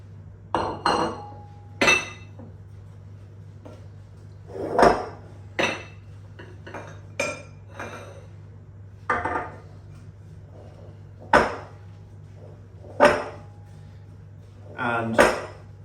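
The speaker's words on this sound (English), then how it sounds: "Now I'm just going to mix all of this into a dough." Oat apple pie dough with cinnamon being mixed in a bowl brings irregular clinks and knocks of a utensil against the dish, close and sharp over a low steady hum.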